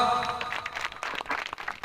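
A crowd at a political speech breaks into brief applause, with scattered claps rising over a fading tonal hum and a soft room ambience.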